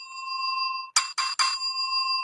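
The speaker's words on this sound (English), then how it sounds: "was that a hotel bell?" A hotel service bell dings in three quick metallic strikes, with a bright ringing tone that lingers and decays between hits, clear and near against a quiet background.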